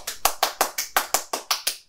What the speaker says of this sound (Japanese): すごいキリがいいんで、拍手しときます。